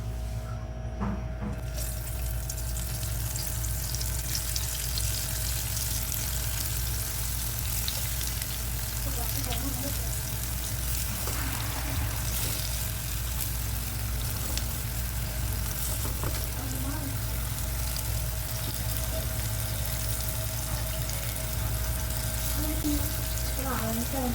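Brinjal pieces frying in a pan for a yoghurt curry, a steady dense sizzle of hot oil that runs unbroken throughout at close range, with faint occasional stirring.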